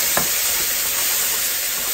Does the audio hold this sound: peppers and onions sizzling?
yes